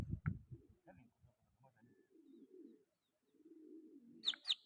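Pigeons cooing, low soft murmured coos in short and drawn-out phrases, quiet and close, ending with a sharper high chirp or call.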